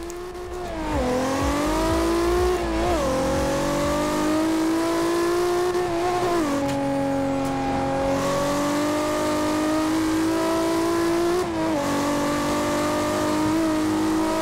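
Toyota Supra MK4 tuned to 1500 HP in the racing game Forza Horizon 2: a loud, sustained engine roar revving up through several gear shifts, with steady high-pitched drone and brief dips between gears, no talking.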